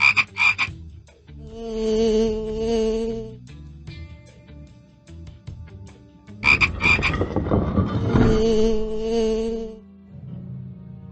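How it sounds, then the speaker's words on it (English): Loud, close frog croaks come in two bursts of rapid, raspy pulses, separated by a brief pause, with a faint buzzing underneath. "a frog and a bee sounds like this"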